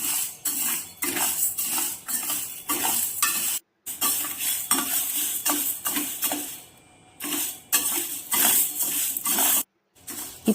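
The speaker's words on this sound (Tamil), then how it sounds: "ஒரு கடாயில் ஒரு டம்ளர் உளுந்து எடுத்துக்குங்க. எண்ணெய் விடாமல் பொன்னிறமாக வரைக்கும் வறுத்துக்குங்க." Urad dal dry-roasted without oil in a kadai, stirred constantly, giving a loud dry rattling and scraping of lentils against the pan in rapid repeated strokes, with a couple of brief silent gaps.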